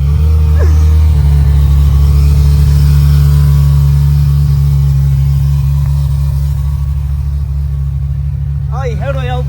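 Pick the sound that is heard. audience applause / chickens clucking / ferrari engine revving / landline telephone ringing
ferrari engine revving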